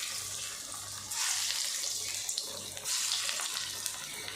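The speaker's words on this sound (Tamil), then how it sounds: "சேனக்கிழங்கு நல்லா பொரிஞ்சு வரட்டும்" Masala-coated elephant foot yam fries in hot oil, a steady hissing sizzle that flares in bursts, with faint clinks of a utensil in the pan.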